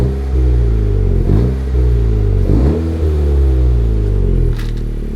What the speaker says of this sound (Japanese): でちょっとだけ吹かしますね